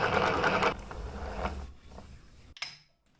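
An LK-150 knitting machine works acrylic yarn from Walmart: a soft mechanical carriage rattle and sliding whir that fades after about two seconds, ending in a small sharp click, quiet and close with no talk.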